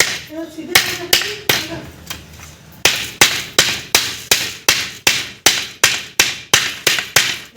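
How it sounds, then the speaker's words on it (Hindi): Hammer strikes on metal door hinges as holes are punched in them, a steady series of sharp, close, loud blows in regular rhythm, with a voice talking briefly at the start. "और अब कब्जों में सुराख कर रहे हैं।"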